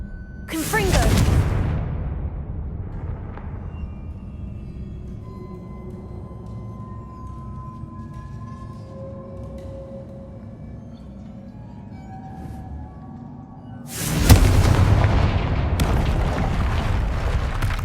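Two loud blasting-curse explosions in the Hogwarts Legacy game, one near the start and another near the end, each a sharp broadband burst with a rumbling tail, separated by quieter game ambience with faint voice.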